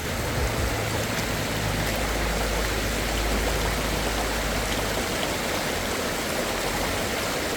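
A mountain river stream flowing steadily, a dense, even rush of water close by that holds constant for the whole stretch, with no voices.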